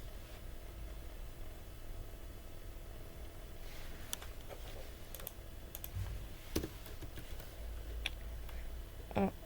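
Keys on a computer keyboard are typed sparsely and faintly, with scattered individual clicks and short bursts over a soft background hiss.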